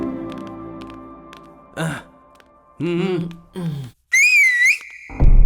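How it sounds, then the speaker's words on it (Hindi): A person whistles to call someone in a Hindi-dubbed action thriller, a short sharp high whistle near the end amid scattered voices and other brief vocal sounds, fairly close and loud. "सीटी मार के बुलाता"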